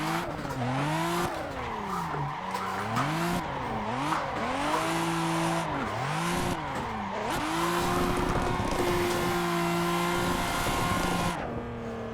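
Simulated BMW E92 or Toyota Supra drifting in Assetto Corsa, repeated loud tire squeals with an engine revving up and down in waves, alternately sliding and recovering for about twelve seconds without talk.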